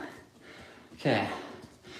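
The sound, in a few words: throat clearing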